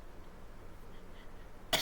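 A single short, sharp cough right at the end after a stretch of quiet room tone, a person choking on a laugh.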